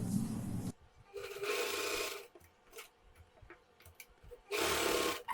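A sewing machine runs in three bursts while a blouse shoulder seam is stitched, each a steady whir of a second or so, with quiet gaps and small clicks of fabric handling between.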